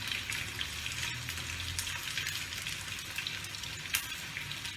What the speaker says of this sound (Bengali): মাছ ভাজাটা হয়ে এসছে